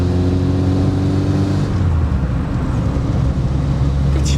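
A Matra Bagheera X coupé, its stainless steel exhaust mounted directly on the engine, accelerates from inside the car with a loud, droning engine note that sweeps and then settles into a steady road roar.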